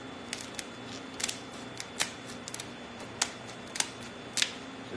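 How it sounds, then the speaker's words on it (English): Kitchen scissors snip through a lobster shell in a kitchen, giving a quick series of sharp, dry clicks and crunches that are close and fairly quiet, with no talking. "Get your kitchen scissors or shears."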